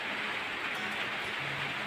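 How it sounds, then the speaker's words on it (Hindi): Steady rain falling outdoors, a dense continuous hiss of drops with no breaks, fairly loud and even throughout. "यहाँ पे देखो दोस्तों बारिश दे रही है आप लोग देख पा रहे होंगे बारिश दे रही है"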